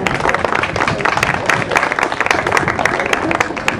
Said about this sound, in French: on applaudit encore